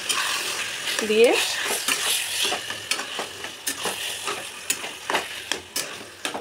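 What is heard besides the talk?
stirring taro leaves (kochu shak) frying in a pan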